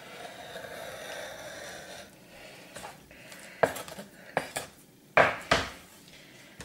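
A knife slices straight down the middle of a large piece of salmon for sashimi, with a few sharp scrapes and clinks against the board after a quiet start.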